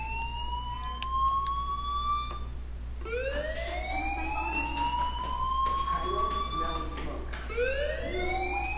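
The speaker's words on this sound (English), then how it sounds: "Hey, do you hear that fire alarm?" A fire alarm wails in the video game Life is Strange, rising and falling siren tones repeating several times over a steady low hum, loud and close with voices faintly mixed in.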